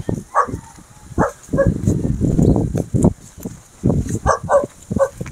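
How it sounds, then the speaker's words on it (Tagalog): A dog barks repeatedly in short irregular bursts, close by, with some vocal noise mixed in. "Tira tayo, may aso."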